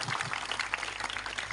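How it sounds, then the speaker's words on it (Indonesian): Audience clapping for parents at a motivational talk, a dense, steady patter of many hands filling the whole stretch at moderate level. "Tepuk tangan buat orang tua."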